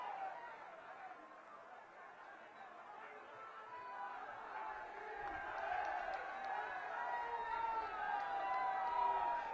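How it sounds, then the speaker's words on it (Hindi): A large rally crowd chatters and cheers in a continuous, swelling roar that builds louder toward the end, with no distinct voice standing out. "जोरदार तालियां बजाकर अभिनंदन करें हमारे राष्ट्रीय अध्यक्ष जी का"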